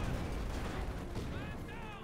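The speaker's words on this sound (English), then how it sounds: "Everyone's firing away there, and none of them are hitting at all." Infantry gunfire in Company of Heroes 2, a steady crackle of rifle and machine gun shots blended into continuous battle noise with a voice talking over it.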